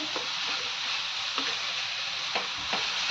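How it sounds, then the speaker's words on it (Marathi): Jaggery and roasted coconut being stirred in a pan, a continuous loud sizzle with repeated scraping strokes of the spoon at irregular intervals, close up with no voices. "आता हे व्यवस्थित एकसारखं सारा परतून घ्यायचं एकसारखं होईपर्यंत"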